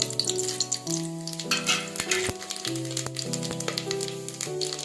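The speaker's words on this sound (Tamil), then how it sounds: "எண்ணெய் காஞ்சதும் நம்ம ரெடி எடுத்து மசாலா ஐட்டம் இதெல்லாம் போட்டுக்கலாங்க" Steady crackling sizzle of whole spices frying in hot oil, close and fairly loud, over a sustained background hum.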